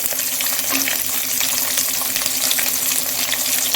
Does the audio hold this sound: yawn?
no